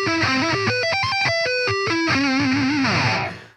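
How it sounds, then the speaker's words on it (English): A GOC Illumina MTLX seven-string headless electric guitar on its neck pickup plays a heavily distorted rhythm riff, chugging low notes mixed with higher melodic lines, loud and continuous with no talking. "The neck pickup would sound like this."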